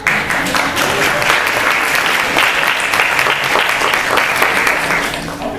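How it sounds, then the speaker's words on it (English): A room at a student Senate of College Councils general assembly meeting breaks into loud, sustained applause, a dense clapping crowd close by that carries steadily for several seconds with a few voices mixed in. "I'll give you an applause"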